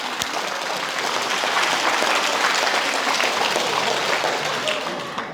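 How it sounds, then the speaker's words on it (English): A banquet audience at a school transportation awards event gives a loud, sustained round of applause for award recipients, with dense clapping that holds steady before easing off at the end. "Let's give all of those award recipients one more round of applause."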